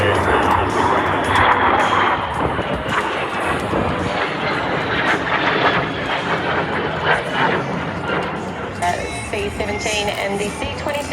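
A military C-27 transport aircraft flies past at the 2025 Australian International Airshow, its engines making a steady, broad roar throughout while a commentator talks over it.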